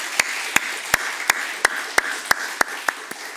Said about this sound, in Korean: 잠깐 일어나면 우리 축복의 박수 하겠습니다